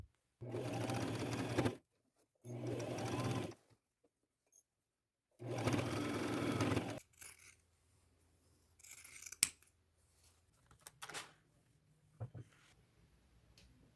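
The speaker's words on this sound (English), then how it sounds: "I'm going to sew it together with a 1/2 inch seam allowance, and I'll fold these little pleats over all one direction as I sew along." A sewing machine stitches a half-inch seam along a thrifted dress, folding pleats as it goes, running in three steady bursts of whirring with short pauses, followed by quieter handling noises and a snip of scissors.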